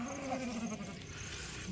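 A sheep in a flock gives a short, faint bleat from some distance, set against a soft background hum.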